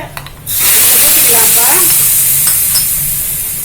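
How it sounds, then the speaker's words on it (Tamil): Raisins frying in hot ghee for payasam, a loud, steady sizzle that starts abruptly and holds close, with faint stirring scrapes underneath. "இப்போ இதை நல்லா பொன்னிறமாக வறுக்கவும்"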